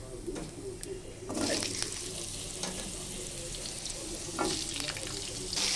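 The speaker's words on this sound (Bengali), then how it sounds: "এদিকে মাছ ভাজা চলছে" Catla fish frying in hot oil in a home kitchen, a steady crackling sizzle with louder spitting bursts and some clatter, heard close up.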